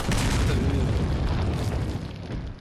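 A broad, sustained boom from an explosion in the Resident Evil 4 village opening, loud and rumbling across the whole moment before easing off slightly near the end, with no talk over it.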